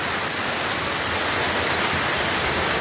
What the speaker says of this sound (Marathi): बापरे पाऊस आला